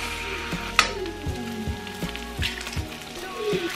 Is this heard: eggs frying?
yes